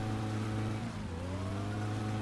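Muscle car engine in My Summer Car revving while stuck in reverse, a steady low droning hum that dips briefly midway then holds, loud and continuous with no talk.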